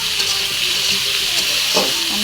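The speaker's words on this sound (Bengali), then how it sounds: "দিয়ে উস্তেগুলো ভালো করে নেড়ে নেবো। তো হালকা ভাজা ভাজা করে নেবো" Bitter gourd (ucche) fries and is stirred in a pan with a steady hiss and sizzle, joined by occasional scraping stirs, loud and close.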